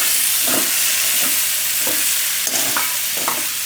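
Tomato frying in a pan while cooking Gujarati bateta bhaat with leftover rice, giving a steady hiss and sizzle with a few soft stirring scrapes and no talking.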